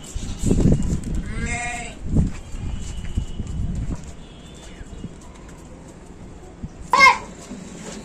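A desi goat and her kids bleat at a goat sale in Hyderabad. A wavering bleat rises early and another sharp one comes near the end, over low background noise and some murmuring.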